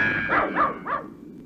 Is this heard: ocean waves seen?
no